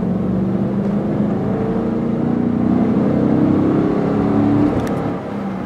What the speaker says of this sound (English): I want to go and slowly just accelerate the car through its range